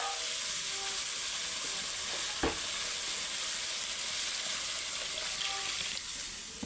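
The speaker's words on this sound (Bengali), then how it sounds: "এবার আমি জল ঢেলে দেবো তরকারিটা" Water is poured into a pan of frying ridge gourd and potato curry, giving a steady loud sizzle and steam hiss throughout, with one brief sharp clink partway through and no speech.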